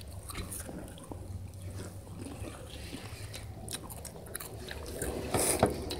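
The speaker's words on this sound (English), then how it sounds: "these lime chips make your mouth more spicier when you eat the Takis" Someone chews Takis and lime Lay's chips close to the microphone, making soft crunching and munching bites against low background noise, with a sharper crunch near the end.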